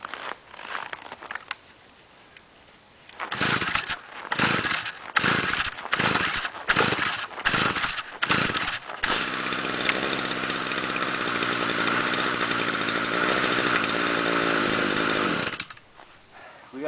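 A small two-stroke leaf blower or weed whacker in 0°F January cold gives a run of sharp, sputtering pull-start bursts, then catches and settles into a loud, steady buzzing idle that cuts off near the end.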